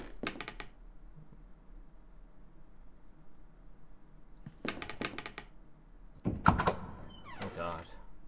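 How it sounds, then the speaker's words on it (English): A door opening in the horror video game The Last Door, heard as a few short, dry thumps and creaks spread across a quiet, hissy background, with a louder clatter near the end. "Door has been opened."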